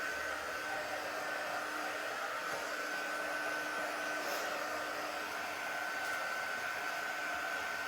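A hair dryer is blowing on freshly made craft pieces to dry them. Its steady, even whoosh holds at a constant level, close and unbroken, with no voices over it.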